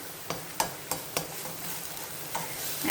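Bottle gourd curry with turmeric and onion paste fries in a pan with a steady, close hiss, punctuated by several sharp taps and scrapes of a spoon against the pan at irregular intervals.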